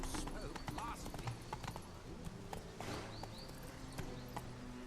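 The horse Roach trotting in The Witcher 3, quick rhythmic clip-clop hoofbeats running continuously under a voice, with faint tack jingles and a brief whinny-like tone.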